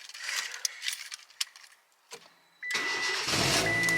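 A manual car with a quick-release steering wheel comes to life: a few faint clicks and rattles, a short quiet gap, then the engine starts abruptly and settles into a loud, steady running hum as the car pulls away.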